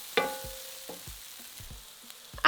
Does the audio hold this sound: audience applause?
no